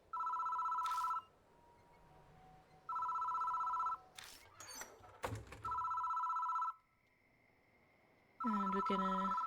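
In the horror game Death Mark, a phone box rings repeatedly, four steady electronic trills separated by pauses, loud and close, with clunks and rustling between rings and a voice speaking briefly.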